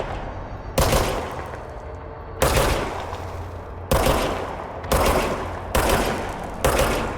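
Symbiote gun in the video game Control fires in loud, close bursts, about six spaced volleys of rapid shots, each cut off sharply with short gaps of game ambience between.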